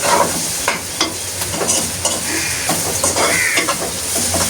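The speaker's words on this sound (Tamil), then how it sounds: "வெங்காயம் எல்லாம் வதங்கி கொண்டு வந்துட்டேன்." Onions sauté in a pan, giving a loud, close sizzle with several sharp stirring scrapes and clatters over a brief stretch, without speech.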